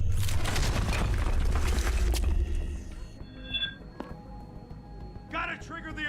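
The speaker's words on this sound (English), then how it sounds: "I'm gonna save before I punch through this wall." A wall being punched through in Deus Ex: Human Revolution, a heavy booming crash with crumbling debris, followed by scattered clattering impacts and a short beeping alarm as the rumble fades; a voice is heard.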